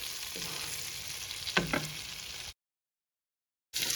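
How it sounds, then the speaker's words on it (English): Ukrainian chicken cutlets fry in a pan with a steady, close sizzle, broken by a couple of scraping clunks as they are turned, then cut off by a sudden silence before the sizzling resumes. "Cutlets are fried from one side and I turn them in the second side and fry as well"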